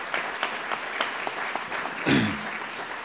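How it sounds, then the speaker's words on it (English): Applause from an audience at a state governor's award ceremony for an honoree, a thin scattering of separate claps fairly quiet and distant, swelling briefly near the end as a voice cuts in. "Y'all give him a round of applause."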